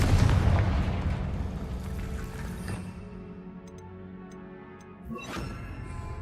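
A Confringo explosion spell in Hogwarts Legacy erupts as a loud low boom up front, then a long rumbling, ringing decay with faint ticking sparkles, capped by a second smaller burst near the end.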